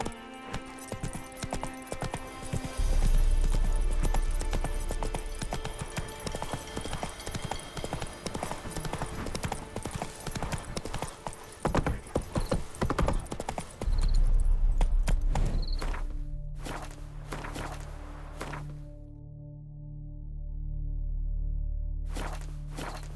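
Roach the horse's hooves clip-clop steadily in The Witcher 3, a continuous walking rhythm of close, distinct hoof falls that pauses midway and resumes, alone without talk.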